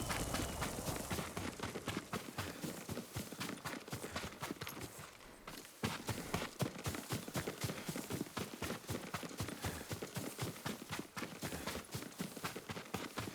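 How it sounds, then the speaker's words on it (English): Steady rhythmic clip-clop of a horse's hooves in Ghost of Tsushima on PS5, a continuous trotting beat with a brief pause midway, moderately close with no talk. "Yuriko's horse."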